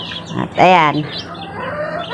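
Pet chicks and chickens give one loud, close clucking call that rises briefly over a soft background of farmyard noise. A voice speaks a few words just before it.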